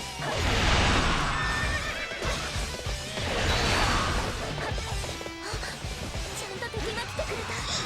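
Horses in Dynasty Warriors whinny loudly twice amid clattering hooves and sharp combat smashes and thwacks, a busy, close game soundscape with a voice talking over parts of it.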